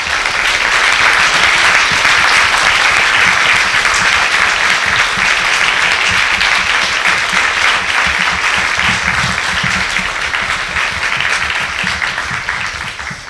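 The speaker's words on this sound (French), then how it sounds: "On vous applaudit encore une fois." A conference audience applauds at the end of a talk, dense sustained clapping from many hands that carries on steadily for over ten seconds before easing slightly.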